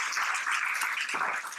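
An audience applauds at a motivational talk session, a dense, steady wash of many hands clapping together, fairly soft and distant, sustained throughout with no voices.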